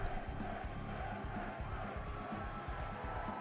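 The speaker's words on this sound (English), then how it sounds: "The crowd cheers for Twig." Crowd noise at the Smite World Championship 2022 finals, a dense continuous roar of cheering and shouting from a large arena audience, steady and loud throughout.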